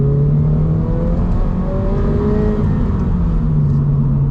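A loud, close Toyota GR86 sports car engine drones at high revs, its exhaust note rising and falling slightly in a continuous rumbling whine with no talking.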